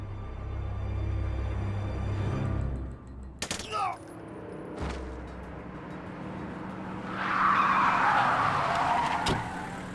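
An in-game car in Splinter Cell Conviction arriving at speed, with a loud engine rush, a tire screech and a hard stop, mixed with game effects and a later surge of engine noise.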